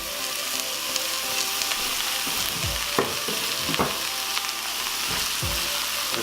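About three pounds of 80-20 ground beef fries in a pan over medium to medium-high heat, a steady close sizzle with scattered pops, broken now and then by low scraping stirs.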